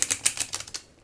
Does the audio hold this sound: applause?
no